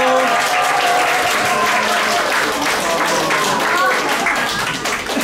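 Congregation at a Korean Sunday church service clapping, a dense, continuous wash of applause with voices and background sound running under it.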